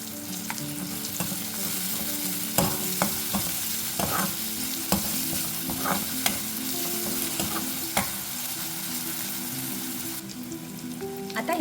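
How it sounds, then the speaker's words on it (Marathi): Chopped onions sautéing in hot oil with a pinch of salt for a methi dal, a steady sizzle broken by repeated spatula scrapes and stirring knocks every second or two, close and continuous. "हे सर्व आपण आता तेलावर परतून घेऊया थोडं मीठ घालते म्हणजे आपला कांदा लवकर शिजेल"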